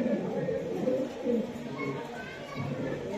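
Male fancy pigeon cooing inside a cage, giving repeated soft, throaty coos in a steady rhythm, close by, over a low background murmur.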